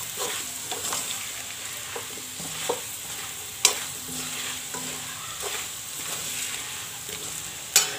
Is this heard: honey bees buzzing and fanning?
no